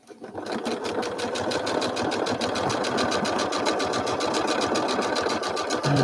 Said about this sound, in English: I'm just going to stitch around here.